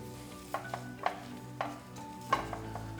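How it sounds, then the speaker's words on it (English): Onions with salt in a pan over low heat give a steady, quiet sizzle with a few soft stirring knocks, close by and with no talking. "So it's going to be on a low sizzle."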